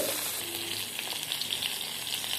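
Rohu fish pieces frying in oil in a pan, a continuous close crackling sizzle with fine spitting pops throughout, fairly quiet and without voices.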